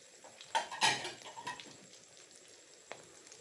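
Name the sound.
omelette frying crisply in oil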